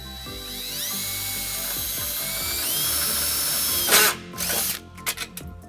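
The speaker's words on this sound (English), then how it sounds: "And then we'll tighten it up using a 3/8 socket." A power tool drives a trailer wiring bracket nut with a 3/8 socket during a trailer harness install on a 2015 Nissan Xterra, whining steadily and rising in pitch, then ending in a few short bursts, close and loud.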